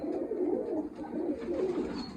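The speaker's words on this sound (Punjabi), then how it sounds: "ਆ ਗਿਆ ਕਬੂਤਰ" A pigeon coos nearby in soft, repeated low throaty calls over about two seconds, with no voices.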